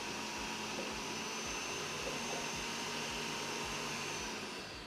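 An electric mixer beats butter into red velvet sponge batter, a loud, steady motor whine with a faint rhythmic thumping underneath that runs without a break, close by.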